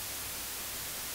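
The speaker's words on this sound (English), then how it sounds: "White noise sounds like this." A synthesizer's white noise generator produces a steady, even hiss like radio or television static, constant and unbroken throughout with no other sounds.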